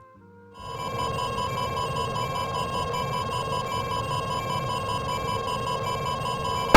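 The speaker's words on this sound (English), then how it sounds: "This is the sound of a missile going pitbull on you." A continuous missile warning tone in the flight game VTOL VR switches on and holds steady, a high rapid beeping alarm over a low engine-like rumble, signalling an active radar missile tracking the aircraft.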